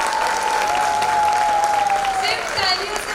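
Seminar audience applauding and cheering: loud, sustained crowd clapping with a drawn-out vocal cheer or whistle carried over the top.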